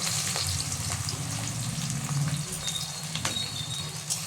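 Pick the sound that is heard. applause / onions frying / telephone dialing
onions frying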